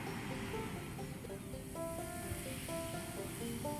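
Ocean waves washing onto a beach, a continuous broad rushing surf heard at a distance and fairly soft, with faint tonal music notes layered over it.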